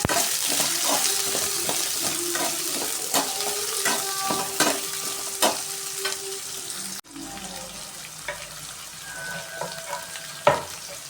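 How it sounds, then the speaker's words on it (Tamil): Sliced onions sauté with vadagam in hot oil for kalyana kara kuzhambu, a steady sizzle broken by repeated scraping stirs of the spoon against the pan, close and continuous. "வடகம் நல்லா பொரிஞ்சு வந்ததும் கட் பண்ணி வச்ச வெங்காயத்தை சேர்த்து நல்லா வதக்கி விட்டுக்கணும்"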